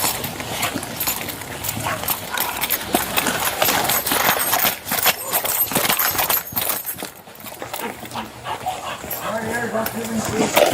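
A police K9 dog barks during a suspect search after a shooting, its barking mixed with loud shouting officers and busy outdoor commotion throughout.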